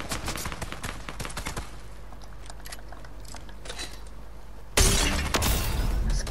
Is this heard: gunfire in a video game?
yes